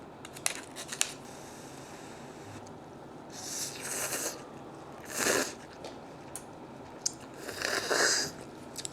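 Someone chews crunchy food up close in several short bursts of crunching and smacking, separated by quiet pauses and a couple of sharp clicks.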